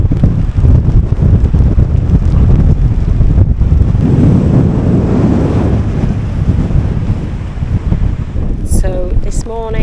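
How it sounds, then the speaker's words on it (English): Strong wind buffets a camper van on a wet, windy winter morning in Scotland, a loud continuous roar and rush that fills the whole clip, with rain mixed into the gusts. "we have woken up to a very wet and windy day"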